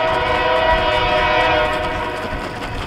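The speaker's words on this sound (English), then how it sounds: "special guest for this video is the 12:30 train" A passing train sounds a long, loud horn over the steady rumble and rattle of the cars, heard outdoors near the tracks and fading slightly toward the end.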